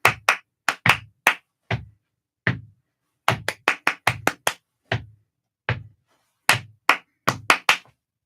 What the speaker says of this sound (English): I'm going to clap a rhythm